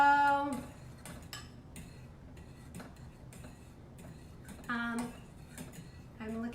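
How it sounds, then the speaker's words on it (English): Butter being stirred as it melts in a pan, a utensil scraping and clinking against the metal in irregular taps close by, with a faint sizzle underneath. "I'm just gonna stir this until it melts."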